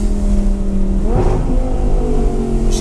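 An Audi R8 engine revs up loud and close, pitch sweeping upward as the car accelerates, a steady roar throughout.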